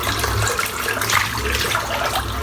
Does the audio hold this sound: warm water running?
yes